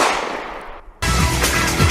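A bang from a bullet-shooting hat: a decaying burst, a short near-silent gap, then a loud, sustained crackling blast that runs to the end, like gunfire or a firecracker.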